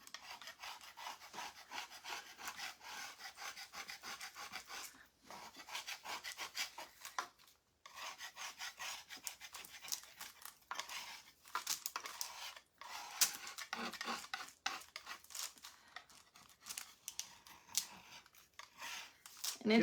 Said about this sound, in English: I'm just going to take my scraper and we're going to scrape this and we're going to see how this works